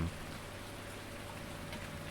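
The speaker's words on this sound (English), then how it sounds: "it's relaxing in the rain" Steady rain falls continuously in the farming game Farming Simulator 19, a soft even hiss with a low hum beneath, constant and unbroken throughout.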